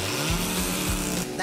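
A cartoon saw cuts through wood in repeated back-and-forth strokes, a rhythmic rasping buzz with several evenly spaced pulses, close and fairly loud, with no talk over it.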